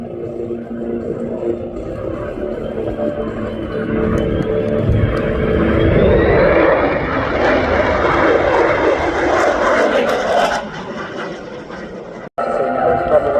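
A Lockheed F-35A Lightning II jet roars past at an airshow, a loud broad engine rumble that swells to a peak midway and then fades, while an announcer talks over it.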